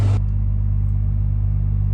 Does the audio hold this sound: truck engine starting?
yes